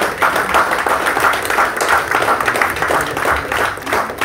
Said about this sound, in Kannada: ಜೋರಾದ ಒಂದು ಚಪ್ಪಾಳೆ.